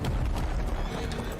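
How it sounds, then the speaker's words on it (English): A horse in a video game whinnies while hooves clip-clop rapidly, loud and close, in a short burst. "Horse."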